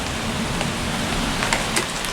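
Rain falls outdoors as a steady, even hiss of drops on surfaces close by, with a few slightly louder drips standing out near the end and no voices.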